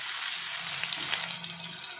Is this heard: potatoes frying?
yes